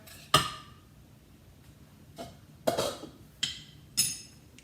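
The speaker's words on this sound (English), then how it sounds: "Just going to put this in here and give it a good stir." A spoon clinks and scrapes against a bowl while banana pepper sauce ingredients are stirred, giving five or six distinct bright knocks spaced unevenly over a quiet background.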